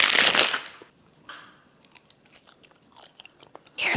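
Biting and chewing a Prime jello ice pop, with a loud close crunchy bite at the start, a few softer chewing sounds after, and another sharp bite at the very end.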